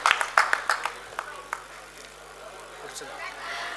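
At a Satara award ceremony for model sarpanches, an audience claps briefly for an award winner, a short burst of scattered applause that fades after a second and leaves quiet room tone.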